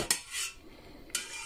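A knife cuts through homemade cheese curd made from homemade milk, giving two short sharp metallic scrapes against the pot with a soft swish between them, close and quiet, with no talking.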